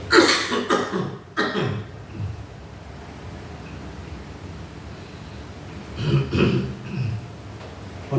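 A person with a lingering cough, during a therapy session, lets out a cluster of close, rough coughs at the start, then quiet, and another short burst of coughing near the end.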